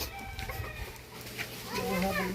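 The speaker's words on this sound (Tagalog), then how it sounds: "Binubugaw niya ang manok." Chickens cluck and a rooster calls in a rural yard while a dog chases them off, the bird sounds rising near the end over background voices and outdoor noise.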